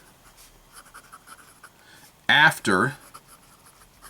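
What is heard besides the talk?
writing quickly with fountain pen, IPG nib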